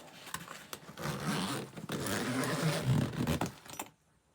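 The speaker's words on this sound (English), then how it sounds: "So let's open it up. It has 2 zippers." The zippers of an Urban Worm Bag composter are pulled open in a few long, close rasping strokes with brief pauses, then the sound stops.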